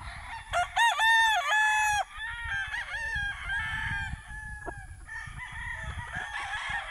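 A gamecock crows loudly and close by at a game farm in Jagna, Bohol, followed by clucking and other fowl sounds over a busy background of farmyard noise.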